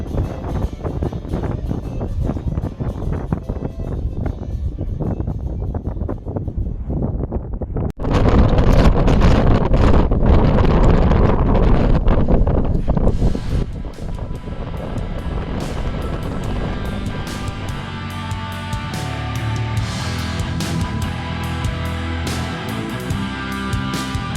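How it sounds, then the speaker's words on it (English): Strong wind buffeting a 360 camera mounted on a Harley-Davidson Road King touring Ireland, a loud continuous roar that surges heavier partway through, with no voices. "We were both kind of sitting into the wind."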